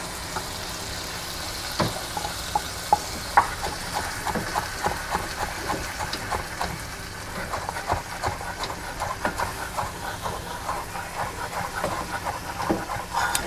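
Diced tomatoes being stirred into a hot pan for Cajun shrimp and grits, steady sizzling hiss with irregular soft scraping taps of the utensil, close and continuous without talking.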